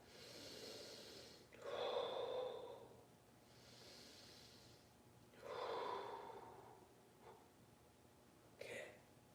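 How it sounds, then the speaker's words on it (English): Deep, slow breaths during a dumbbell fitness exercise, close to the mic: two long audible inhale-exhale cycles with airy, snorting texture, then a short sharper breath near the end, no talking. "I'm getting deeper with each breath."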